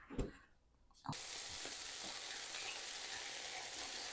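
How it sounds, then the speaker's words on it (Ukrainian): After a short clatter, meatballs hit hot oil in a pan and a loud, steady sizzle of frying fills the rest of the clip. "я вже їх ось тут смажу, перегортаю, щоб вони вже схопилися"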